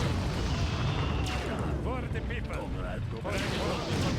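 Outdated tanks being destroyed by fire in the strategy game Empire Earth, with a Russian campaign set in 2064: a steady wash of rumbling explosions and mechanical clatter, heavy booms rolling under a dense battle din.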